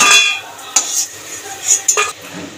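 A metal utensil scraping and clinking in a pan while fried bori lentil dumplings are lifted out of hot oil, a few short close knocks over a quiet sizzle, no speech.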